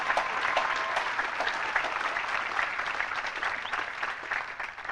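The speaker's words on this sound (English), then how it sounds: "you get lots of applause today" Audience at a 6th Regiment Advanced Camp military graduation ceremony applauding, a dense continuous crowd clapping that holds steady and tapers slightly toward the end, heard from a moderate distance.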